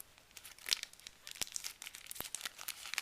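A sheet of foil is crinkled and handled up close, giving a quiet run of irregular crackles and crisp rustling bursts with no talking.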